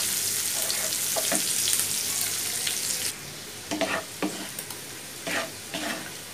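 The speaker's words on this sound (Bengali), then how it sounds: "কাঁচামরিচ, পেঁয়াজ, রসুনটা দিয়ে দিব। দিয়ে ভালো করে নাড়িয়ে নিতে হবে।" Green chilli, chopped onion and garlic frying in hot oil with a steady sizzle, loud at first and then quieter, broken by several scraping stirs of a spatula across the pan.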